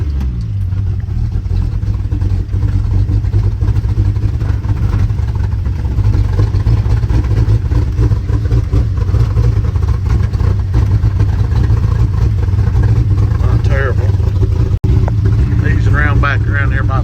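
A 1973 Jeep J2000 engine with a carburetor runs under heavy throttle near a farm, holding a loud, steady, close-up drone for most of the stretch before voices come in near the end.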